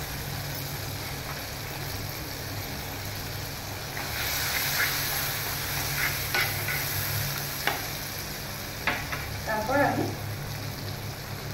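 Tomatoes and chili powder frying in a pan, a low steady sizzle with intermittent stirring scrapes and clanks, a brief spoken phrase over it.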